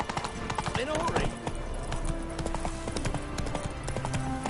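A horse gallops in The Witcher, rhythmic hoofbeats clip-clopping steadily and close, with creaking tack and game sounds mixed in.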